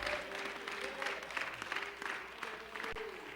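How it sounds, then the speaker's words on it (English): A congregation claps hands in praise at a church service, a dense crackle of applause running steadily throughout, with a faint sustained tone and murmur beneath it. "Somebody get on your feet and give Him a great big hand clap of praise."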